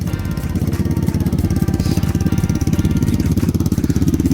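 A Lifan motorcycle engine idles close by with a steady, rapid, even put-put that runs unbroken and loud for the whole stretch, no voices over it.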